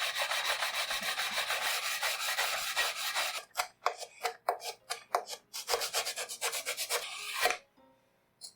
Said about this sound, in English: So I need to hand sand that.